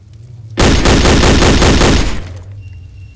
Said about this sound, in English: I have a machine gun.